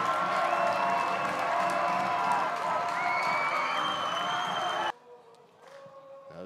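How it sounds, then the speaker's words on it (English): A soccer crowd at Starfire stadium cheers and applauds a reserves match goal, a broad, steady roar that cuts off abruptly near the end, leaving quieter background sound. "the crowd here at Starfire voices their approval"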